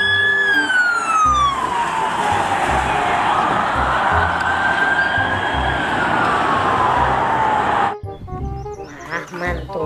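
A toy police car's electronic siren wails loudly in a long, sweeping rise-and-fall tone that continues steadily, then cuts off abruptly near the end, leaving brief, quieter sounds.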